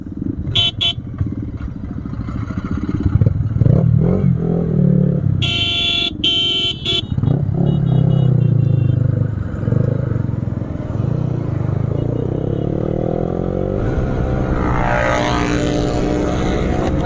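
A vehicle with a loud modified silencer exhaust roars steadily on a highway, a close, sustained engine drone with brief sharper bursts midway and no talk.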